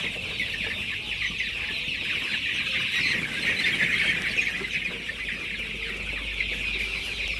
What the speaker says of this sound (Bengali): আর একটু মুরগিটা তাড়িয়ে দিতে হয়